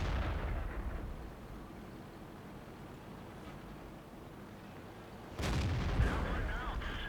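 Tank gunfire in the World of Tanks video game from a Panzer IV Schmalturm, with a loud booming shot near the start, a low rumbling lull, then another heavy blast with trailing noise.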